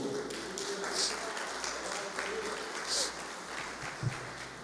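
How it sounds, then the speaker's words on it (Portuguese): Applause from a church congregation, scattered claps and taps over a low room murmur with a few sharper individual claps, moderately distant. "Você pode aplaudir o nome do Senhor?"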